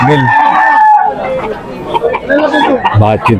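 A Kelso stag, a young gamecock, crows among other roosters at a market, with people chattering close by throughout.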